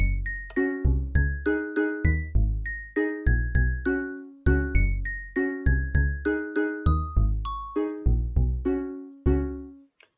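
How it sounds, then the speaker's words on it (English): Minecraft note blocks with bell sounds play a melody, bright struck bell tones in quick rhythmic clusters with decaying tails, loud and clear with no voices. "So here it is with the bells"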